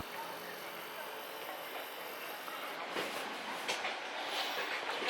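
A mountain coaster at Sommet Saint-Sauveur, Quebec, runs along its rails with a steady, close rattling rumble that grows slightly louder and rougher partway through the ride.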